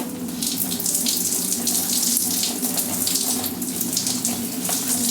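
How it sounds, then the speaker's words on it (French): Water streams steadily from a shower head in a home bathroom, a close, continuous hissing spray that holds an even level throughout with no voices. "j'aime trop avoir un pommeau de douche comme ça"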